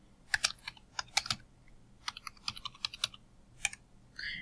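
Bursts of keystrokes on a computer keyboard while a password is entered into an online sign-up form: quick clicky clusters separated by short pauses, close and fairly quiet, with no voices.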